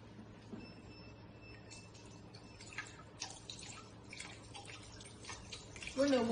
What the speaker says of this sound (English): When the water flows out from the pipe, you can stop adding water